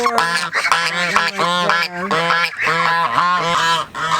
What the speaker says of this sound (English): here are the goslings and there's 2 moms